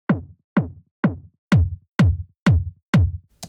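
A filtered, soloed techno kick drum, with only its gnarly mid-range layer kept, hits eight times in a steady, evenly spaced pulse. Each punchy thump decays quickly into silence, and there are no voices.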